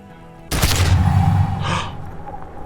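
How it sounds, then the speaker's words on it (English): A gun goes off in the video game Disco Elysium, one loud sudden blast that rolls into a rumbling echo with a brief hiss of debris, close and dominant. "A plume of smoke and fire erupts from the gun, and your hand goes numb from the explosion."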